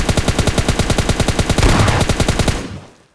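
Rapid automatic gunfire from the PUBG Mobile Lite game, likely the MK14 or an S12 shotgun, rattles in a fast even burst of loud close shots for about two and a half seconds before cutting off and fading.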